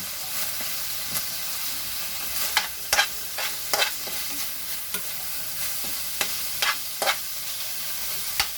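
Pork cubes fry in a pan with sautéed garlic, onion and tomato, a constant hissing sizzle broken by repeated clacks of a spoon or spatula stirring, close and fairly loud.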